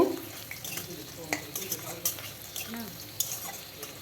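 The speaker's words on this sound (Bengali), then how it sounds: "ভাজতে ভাজতে খুব সুন্দর একটি গন্ধ বেরোবে দেখুন কালারটা চেঞ্জ হয়ে যাচ্ছে এইভাবে ভাজতেই থাকবো" Marinated meat fries in a pan, a close continuous sizzle punctuated by repeated stirring scrapes and clinks of a utensil against the metal, with a voice briefly audible underneath.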